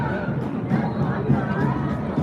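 A crowd of protesters fills a Seattle street, a steady close wash of overlapping voices, chatter and occasional shouts blending into continuous babble.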